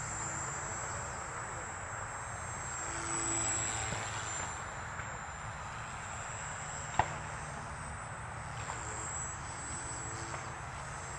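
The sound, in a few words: Blade 235 RC helicopter rotor and motor running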